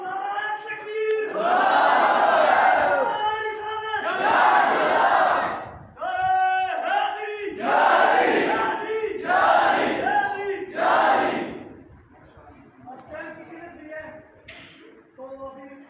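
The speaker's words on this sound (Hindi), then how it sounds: "इसलिए तो नारा लगाओ, नारा तकबीर" A large crowd at an Awami Action Committee rally in Samahni loudly chants the Nara-e-Takbir slogan in repeated call-and-response bursts of massed shouting, which fade toward the end.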